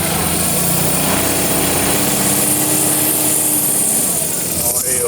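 A BMW R1200RT motorcycle engine idles loudly and steadily up close during an adjustment, a continuous buzzing drone with people talking over it.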